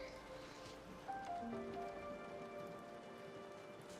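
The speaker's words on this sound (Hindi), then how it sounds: "पर बाहर तो इतनी बारिश हो रही है ना।" Steady rain patters on a surface throughout, with faint tonal hums and a soft background hiss.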